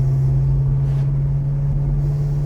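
A deep, steady engine rumble from a 1970 Pontiac LeMans drones on low and close, throaty and unchanging throughout with no talking.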